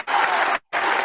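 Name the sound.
applause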